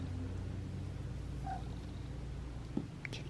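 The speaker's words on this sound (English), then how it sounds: "Not to be forgotten. Kitty cat." A cat purrs softly and steadily at close range with a low, even rumble, alone against faint background noise.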